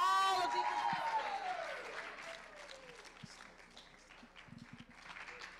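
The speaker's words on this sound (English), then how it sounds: "Give a round of applause for these contestants." A descending tonal swoop opens the moment at the Mr. & Miss Hospitality 2019 pageant, followed by scattered, fairly light audience clapping for the contestants coming on stage, with a few sharper claps standing out.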